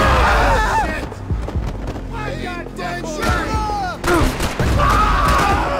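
Gunfire in Max Payne 3, with bursts of shots scattered through dense, loud game action and effects sounds, no speech.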